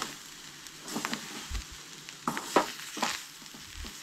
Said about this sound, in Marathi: हलकीशी भाजून घेवंक जाय.